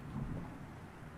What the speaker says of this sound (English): Even from here, I can hear the gusts battering the window in the attic.